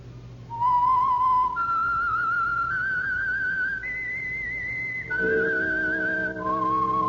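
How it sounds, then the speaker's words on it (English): A whistled signal tune for The Whistler, a Signal Oil radio mystery program: one clear, close melody of sustained notes stepping up and down in pitch, heard alone. "That whistle is your signal for the Signal Oil program, The Whistler"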